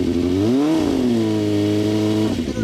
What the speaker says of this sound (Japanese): エンジン聞かせてもらえる？